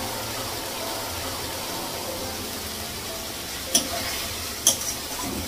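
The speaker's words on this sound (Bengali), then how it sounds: "তারপর রুই মাছটা রান্না করবো" Rohu fish curry with potato and onion sizzles steadily in a wok, a continuous frying hiss at moderate level, with two brief sharp clinks of a utensil near the end.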